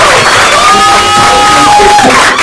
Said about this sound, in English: clap your hands together and celebrate